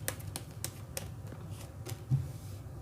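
Tarot cards are shuffled in a quiet room: soft, faint riffling clicks and taps come in an irregular sequence with no talking.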